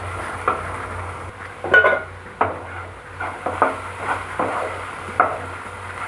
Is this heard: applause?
no